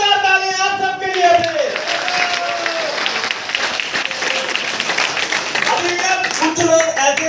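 Audience at a motivational training seminar claps loudly throughout, with a voice speaking over the start and end of the dense applause.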